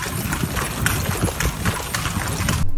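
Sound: horse hooves on the street during city horse rides

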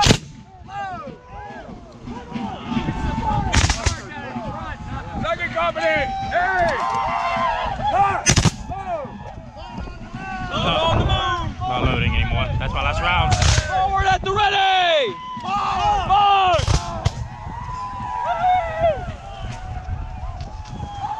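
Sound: musket volley fired by company at Civil War battle reenactment

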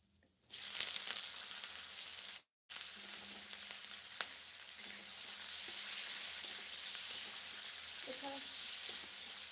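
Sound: cumin sizzling in hot oil while cooking

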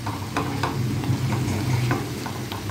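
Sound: bitter gourd cooking in a pan

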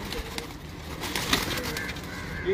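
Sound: pigeons cooing

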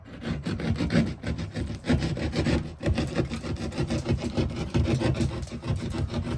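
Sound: trimming the edges of a ceiling opening for an LED spotlight

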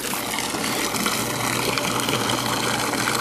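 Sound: small pump pumping swimming pool water

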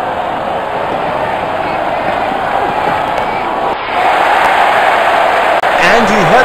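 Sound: crowd cheering in Real Cricket 19 video game

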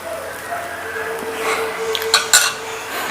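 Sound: bread dosa batter being spread on a pan

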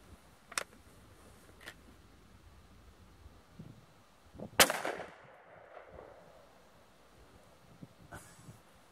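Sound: BB gun shots fired at birds

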